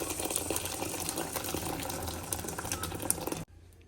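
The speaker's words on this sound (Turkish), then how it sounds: "Şimdi kaynar suyumu ilave edeceğim." Boiling water poured from a kettle onto salted rice in a pot makes a close, steady splashing rush that cuts off abruptly just before the end, leaving near quiet.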